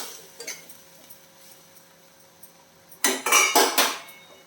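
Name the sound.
lid placed on pan of banana flower stir-fry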